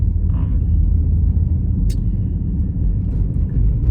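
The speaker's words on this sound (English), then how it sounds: "I'm actually just driving around right now." A car driving along, heard from inside as a steady, loud low rumble and road drone that holds evenly throughout, with a few faint clicks above it.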